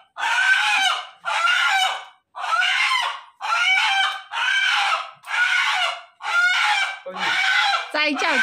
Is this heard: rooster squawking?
yes